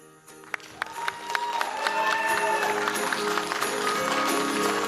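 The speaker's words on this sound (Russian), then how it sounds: "Аплодисменты, друзья!" Theatre audience applause after a children's dance performance at a festival, starting sparse with a few sharp claps, then swelling within about a second into loud, dense, sustained clapping that continues to the end.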